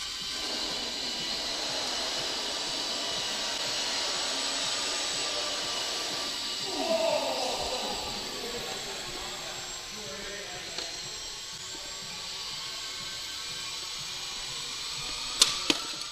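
A model ground effect vehicle whines with a steady high-pitched motor buzz on a short test flight, swelling briefly midway, then a couple of sharp knocks near the end as it crashes.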